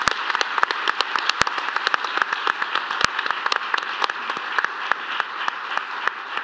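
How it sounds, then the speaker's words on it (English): An audience claps for the Expedition Amelia team at a live talk, sharp individual claps standing out close by over a continuous bed of applause that holds steady to the end. "Please give them another round of applause."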